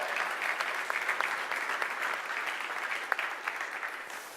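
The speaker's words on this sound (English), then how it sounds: "So give them a round of applause and thank them too for all their hard work." An audience at a ZBrush Summit conference gives a round of applause for the event crew, a dense, even wash of clapping that holds steady from start to finish with occasional louder claps.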